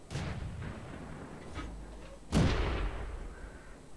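Tank cannon fire in the video game World of Tanks, heard as a sharp booming shot that rings out and decays, following a fainter earlier thump, all close with no speech over it.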